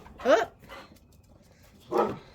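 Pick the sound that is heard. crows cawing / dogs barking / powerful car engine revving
dogs barking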